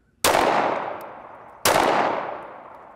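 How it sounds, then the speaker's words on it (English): Two handgun shots fired at a shooting range, about a second and a half apart, each a loud sharp crack close by followed by a long fading echo, with no talking. "shoot a couple rounds, and let's watch your muzzle"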